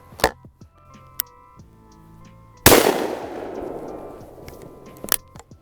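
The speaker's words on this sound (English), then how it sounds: "So I'm just going to show you guys real quick 3 different shells through the Stoeger Uplander. Starting out with a 2 3/4 inch number 8 lead shot." Stoeger Uplander side-by-side field shotgun firing a 2 3/4 inch number 8 lead shell outdoors, one loud close report with a long decaying echo, after faint handling clicks, with a softer click near the end.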